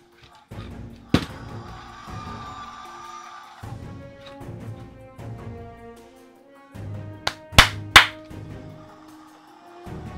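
Sharp hand claps near the start and a pair of louder claps later ring out against a quiet room, aimed at triggering a sound-activated ROKR robotic T-Rex toy, with faint mechanical toy noise and tones in between.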